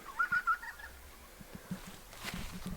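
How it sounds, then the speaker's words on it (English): A bird calls outdoors near a tent campsite, three quick hooting notes close together, then fainter background noise with no talk. "Some weird little thing, pigeon or something."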